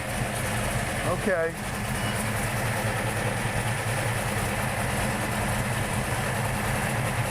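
A cammed V8 in a 1966 Shelby GT Mustang idles with a lumpy, steady rumble throughout, and a brief word is spoken over it.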